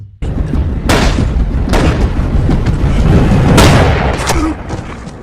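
Gunfire in a cartel action film, The Marksman: several heavy booming shots a second or so apart, loud and close, each with a rumbling low tail over a constant tense rumble, with no talking.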